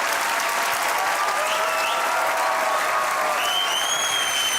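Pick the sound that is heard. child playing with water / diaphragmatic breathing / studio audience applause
studio audience applause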